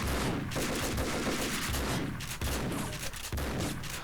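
Gunfire in the video game Max Payne 2, a dense, continuous fusillade of rapid shots and heavy bursts, loud and sustained with several sharper blasts punctuating it.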